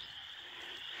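Frogs croaking steadily in a swamp during mating season, a dense continuous chorus heard from a distance with no talk over it.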